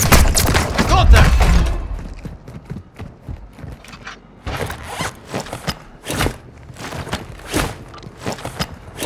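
Gunfire in the video game Warzone 2, with a loud, dense burst of shots and rumble at the start, then scattered sharp reports and thuds in uneven bursts through the rest.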